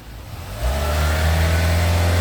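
A Ford Ranger pickup truck engine with a turbo idles and then revs up sharply, giving off white smoke, holding a loud, steady roar close by with no voices.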